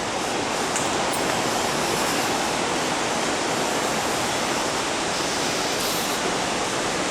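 A natural waterfall at Man, Côte d'Ivoire in West Africa roars as a loud, continuous, even rush of falling water with no pauses and no talk.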